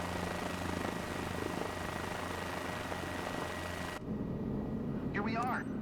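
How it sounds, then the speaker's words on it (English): A helicopter in Microsoft Flight Simulator 2024 drones with a steady broadband rotor and engine roar, then drops to a quieter cabin hum as someone briefly speaks. "This is a helicopter, Joe."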